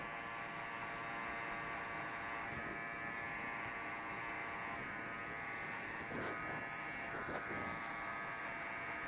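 Electric hair clippers buzzing steadily and close up while cutting a skin fade in a barbershop, a continuous motor hum with slight changes as the blade moves along the hair.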